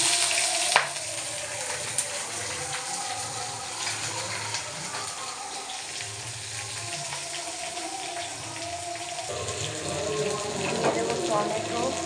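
Onions drop into hot oil with whole cumin, dried chilli, bay leaf, cardamom and cinnamon, starting a sharp splash, then a steady sizzle, with soft stirring and a louder crackle near the end.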